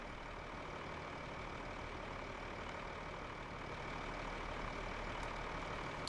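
A tractor engine in Farming Simulator 15 drones steadily and evenly at a constant pitch throughout, with no voices.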